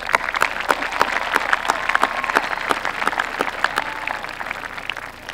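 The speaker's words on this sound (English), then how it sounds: "Give them a round of applause." A burst of clapping from an audience at a high school graduation, dense and steady, then gradually thinning and fading toward the end.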